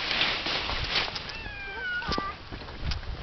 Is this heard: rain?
no